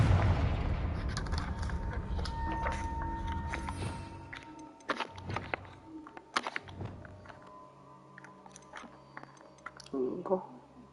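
Confringo explosion spell cast in the video game Hogwarts Legacy, a string of sharp bursts and thumps over a fading rumble, with a final crackling flare near the end.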